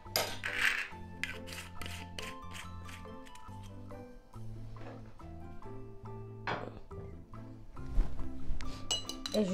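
An egg mixed with orange blossom water is beaten in a bowl, the utensil clinking and tapping against the bowl in quick, irregular strokes over steady background music.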